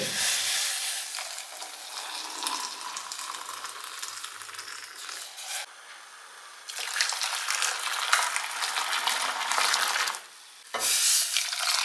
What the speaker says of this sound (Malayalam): ഇതാ ചായവടെ തിളച്ച് വരുന്നുണ്ട്